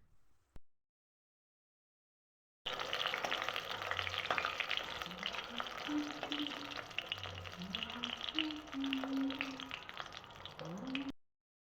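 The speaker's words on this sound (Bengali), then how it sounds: "তেলের মধ্যে কয়েকটি মশলা বড়ি দিয়ে দেব ভাজার" Spiced lentil dumplings (bori) fry in hot white oil in a kadai with a loud, continuous sizzle that starts abruptly after a short silence, while a voice speaks intermittently over it.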